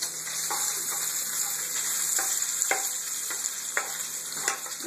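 Bacon fries in a pan with a steady, bright sizzle and crackle, scattered sharper pops and spatters breaking through at a fairly close distance.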